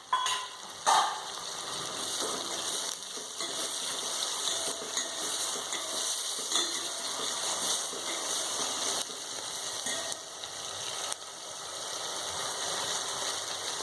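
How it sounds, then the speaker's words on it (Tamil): A steady, close sizzle of vegetables sautéing in oil in a pan for a potato stir-fry with onion and tomato, with a few brief clinks near the start. The hiss is even and unbroken, with no talk over it. "எண்ணெயில் அப்படியே வதங்கட்டும்."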